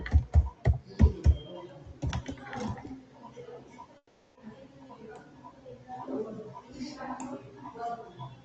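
Someone types on a computer keyboard with a few sharp, loud clicks at first, then lighter, scattered keystrokes under a voice talking nearby.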